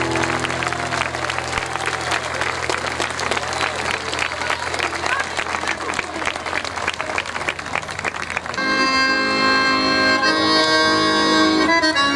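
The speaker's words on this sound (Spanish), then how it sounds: "fuerte ese aplauso" An outdoor concert crowd at a festival in La Falda, Argentina, claps and cheers to welcome an accordion musician on stage, steady applause that gives way to music.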